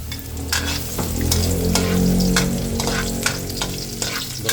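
Garlic sizzles in hot cooking oil in a pan, a close, steady frying crackle, with sharp scrapes and clinks from stirring at irregular intervals.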